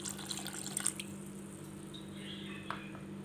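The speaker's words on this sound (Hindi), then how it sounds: "थोड़ा पानी भी मैं इसमें ऐड करूंगी," Water is poured into rava idli batter made with sour curd, giving a faint, brief trickle and a few drips over steady background hum.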